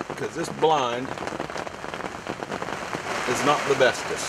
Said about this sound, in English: it is pouring down rain